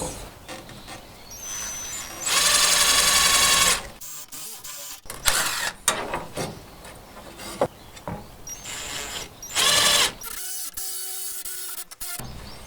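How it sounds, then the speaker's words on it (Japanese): A drill bores screw holes through cut aluminium stock in loud bursts of high whining machining noise, separated by quieter pauses and handling clatter, with no talking. "ネジ穴を開けておきます。"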